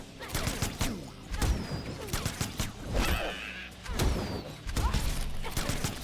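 Gunshots ring out during a Mortal Kombat XL match, with repeated sharp cracks and thuds spread across busy fight effects, under brief overlapping commentary.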